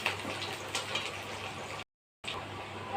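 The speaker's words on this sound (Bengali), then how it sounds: "পেঁয়াজ, কাঁচা লঙ্কা, শুকনো লঙ্কা, জিরে, তেজপাতা সব ভালোভাবে আমি লাল করে ভেজে নিচ্ছি।" Onion, green chilli, dried chilli, cumin and bay leaf fry in hot oil with a steady close sizzle and bubbling, broken by a brief silent gap, with no voices.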